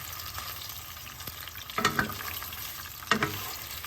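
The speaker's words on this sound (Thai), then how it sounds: "ค่อยๆ ทอดไฟอ่อนไปนะคะ" Isan sausage frying over low heat on a Korean pan, a steady soft sizzle with a few brief stirring scrapes and clatters, close and alone.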